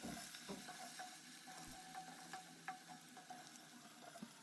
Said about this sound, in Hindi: और इसे थोड़ा सा फ्राई करते हैं।